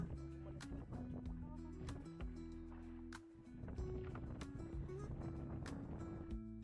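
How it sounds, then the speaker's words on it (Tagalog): A steady rumble of strong wind and engine-like drone with water churning and slapping around a small boat rocking on big waves, loud and continuous throughout. "sobrang laki ng alon, malakas ang hangin, at napapansin nyo naman yung bangka namin sobrang magalaw"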